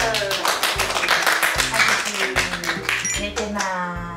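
A few people clapping hands at home in a newly moved-into house, quick uneven claps near the microphone mixed with talking and a voice over them.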